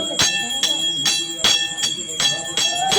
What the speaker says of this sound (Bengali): আস্তে আস্তে করে ঘন্টাটা বাজাচ্ছিল